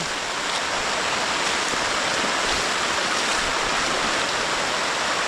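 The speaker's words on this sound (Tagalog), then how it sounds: "umapaw po ang tubig" Irrigation water overflows and rushes through a planted field, a loud, steady broadband roar of flowing water heard close and continuous with no talking.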